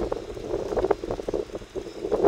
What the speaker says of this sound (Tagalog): Pero kasi mahangin na